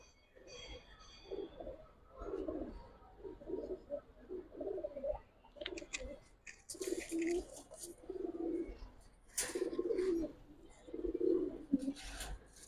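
Giribaz and coloured pigeons coo in repeated low, throaty bursts, fairly close and soft, with brief chirps and faint rustling between calls.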